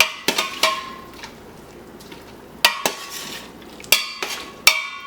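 Cut vegetables for sancocho are stirred in a pot, giving sharp, close clanks of a utensil against metal at irregular intervals over a quiet background.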